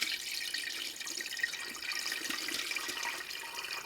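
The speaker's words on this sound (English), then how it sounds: "gently pour it from pot to pot. Let all the liquid drain through." Chicken stock poured gently from one pot through a strainer into a second pot: a steady, moderately quiet stream of splashing liquid that runs continuously without a break.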